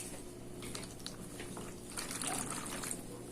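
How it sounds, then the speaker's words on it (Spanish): Water poured into a small tray for a physics experiment, a faint, continuous trickle with a slightly louder stretch near the end and no talk. "Lo que queremos hacer es vertir el agua en el recipiente,"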